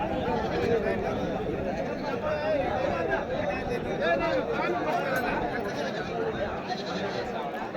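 Goats bleat repeatedly at the Kambainallur goat market in Dharmapuri district, the calls rising over steady crowd chatter and people talking throughout the busy outdoor market.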